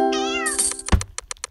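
A cartoon cat in the video game Cat Condo gives one clear, rising meow, followed by a soft thump and a quick run of light game clicks.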